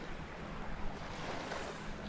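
Waves lapping on a lake in strong wind, a short burst of splashing water mixed with broadband wind buffeting the microphone, fairly close and steady throughout.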